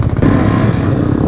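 A motorcycle pulls a wheelie, its engine giving a loud, close, throaty rumble that rises briefly and holds.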